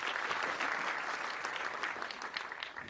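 An audience claps steadily at a Malayalam film trailer launch press meet, a dense sustained round of applause from a crowd with no voices over it.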